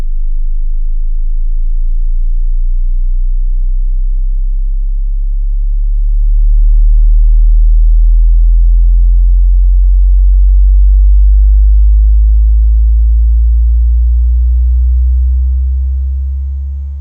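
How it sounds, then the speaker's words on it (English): A loud, deep sine tone from three 13-inch underseat subwoofers sweeps slowly upward from 25 hertz, a continuous rumbling hum that swells and grows gradually higher, with no voices. "here is a sweep from 25 hertz on up"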